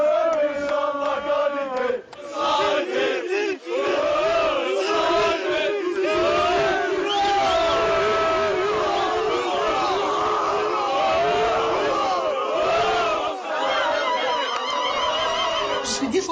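A crowd of neighbours and childhood friends in an Algerian footballer's home neighbourhood cheers and shouts loudly and continuously, with whoops and overlapping voices throughout.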